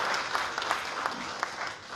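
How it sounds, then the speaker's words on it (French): Audience at a Chad press briefing on Airtel Money CEMAC transfers applauds the central bank deputy director warmly, a short burst of many hands clapping at close range, tapering slightly at the end. "que je demande qu'on applaudisse encore très très chaleureusement"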